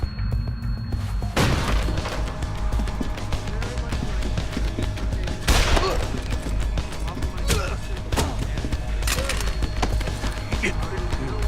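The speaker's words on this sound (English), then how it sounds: "Gunshots! You've got to help me!" Heavy booms and bursts of gunfire in Deus Ex: Human Revolution break through a dense, rumbling game soundtrack, with voices speaking underneath.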